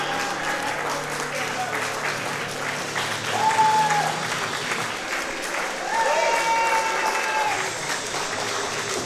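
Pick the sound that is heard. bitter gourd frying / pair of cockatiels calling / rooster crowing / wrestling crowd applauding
wrestling crowd applauding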